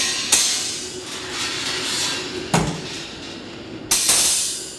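Metal racks are pulled from a Southern Pride SPK 1000 gas smoker, giving three sharp metallic clanks spaced a second or two apart, each ringing and fading into a low hiss.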